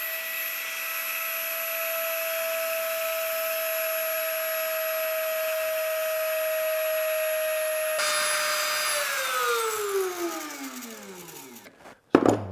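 A plunge router cutting a rosette channel around a guitar sound hole gives a loud, steady high whine that shifts as the bit engages, then spins down over several seconds to a stop with a final clunk.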